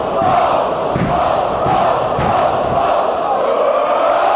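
A wrestling crowd at an FWA British Uprising show roars continuously, loud and close, with rhythmic swells of shouting and cheering that never drop away.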